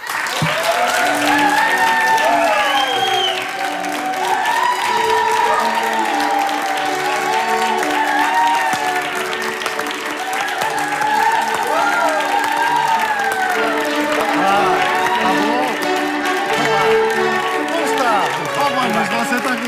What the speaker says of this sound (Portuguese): recebam com um enormíssimo aplauso, o maestro António Raminhos de Almeida